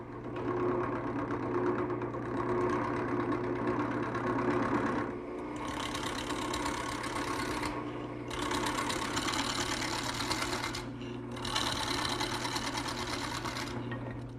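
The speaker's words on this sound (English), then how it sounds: "I'm going to start the turning by using this skew chisel to just score it right at the line" A wood lathe motor hums steadily while a skew chisel scores the spinning workpiece, producing three loud hissing cutting bursts of a few seconds each with short pauses between them.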